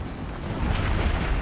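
Howitzer artillery barrages in the strategy video game Forts, heard as a dense, continuous rumbling boom that builds slightly in intensity over a short moment, with no clear gaps between the blasts.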